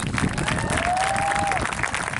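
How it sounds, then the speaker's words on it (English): A graduation ceremony crowd at Peekskill High School claps steadily for a Board of Education vice president, a continuous mid-level patter with a brief rising whistle or cheer cutting through. "we want to give her a round of applause"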